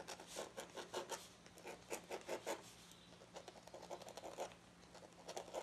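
Flexible-nib fountain pen scratching across paper: close, quiet rasping strokes in quick rhythmic bursts, each a short scratchy drag, with brief pauses between groups and no voices.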